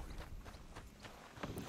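Hooves of a horse in a French-language action video game clop in a loose walking rhythm, several distinct hits close up over a low game ambience.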